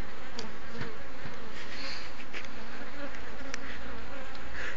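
Honey bees at a hive in Egypt make a steady, dense buzzing close by, continuous and loud, with no voices.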